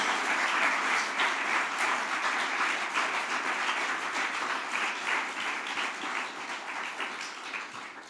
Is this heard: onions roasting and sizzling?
no